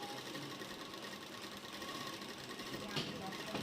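A sewing machine runs steadily while stitching a salwar, a close, continuous whirring hum with no break.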